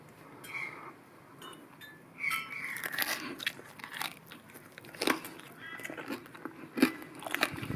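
Someone biting into crispy-skinned Filipino fried pork belly, lechon kawali, with several close crunchy bites and chewing, some faint speech-like sounds around them.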